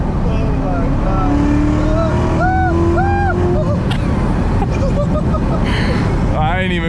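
A manual Corvette C7 Z06 accelerating on a night drive gives a loud, steady roar of engine and road noise that fills the whole clip, with voices talking over it.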